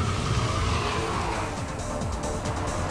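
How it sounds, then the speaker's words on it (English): A car understeers and skids across a greasy roundabout, its engine roaring with a continuous rough scrub of tyres losing front grip, close and loud for a few seconds. "increase your speed and, oh, loads of understeer, and the car just washes out"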